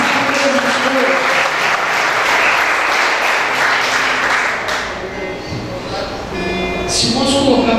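A church congregation claps together in loud, sustained applause that fills the room and eases off slightly near the end, with voices mixed into the ovation.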